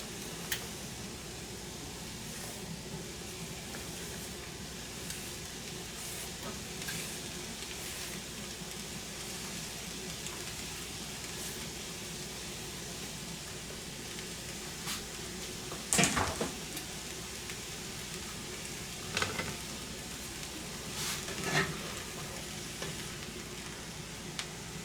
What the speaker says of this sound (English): we're just gonna saute our veggies here